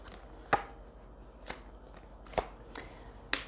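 Tarot cards tapped and set down on a reading table, several sharp, separate close clicks and slaps spaced irregularly over quiet background, no talking.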